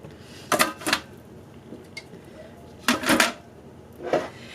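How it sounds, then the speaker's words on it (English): Glass canning jars set down into a canner clink and knock against each other and the rack, a few close, sharp taps in two clusters with a quieter one after, over faint room noise. "we are going to set our jars in the canner"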